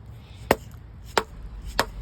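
Three dull, solid knocks at an even pace, close and fairly loud, from a mallet striking a 1984 Honda Goldwing GL1200 engine block, with no voices.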